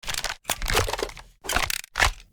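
A sci-fi sniper rifle reload built from layered box cutter, stapler, camera, Nerf gun and air pistol recordings: four close, crunchy mechanical clicks and clacks in quick succession, separated by short silences, with no speech.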